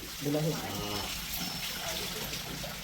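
A bull drinks water at a bullock-cart racing event: steady splashing and trickling water runs throughout, with people talking over it.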